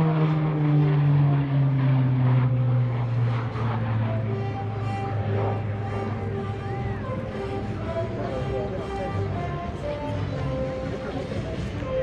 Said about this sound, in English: Watch now, here he comes,